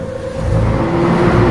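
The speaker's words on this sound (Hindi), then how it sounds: "बिल्लू के मना करने के बावजूद जगत गाड़ी रोकता है।" A car engine hums loud and close in a steady, even drone that rises slightly after the first moment, with no clear sound of the car coming to a halt.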